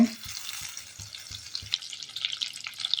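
Onion frying in melted butter in a pan, a soft crackling sizzle with several stirring knocks early on, then a brighter, busier hiss as the onions cook, close and moderately quiet.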